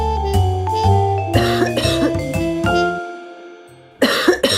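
A few harsh coughs burst out over steady background music, loud and close, with a final cluster of coughs after a brief lull.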